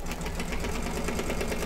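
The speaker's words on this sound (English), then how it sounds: "So we are going to stitch the applique placement. And it's going to stitch right through." An embroidery machine stitches an applique placement through fabric, a fast, even, close mechanical rattle with a regular rapid beat and no talking.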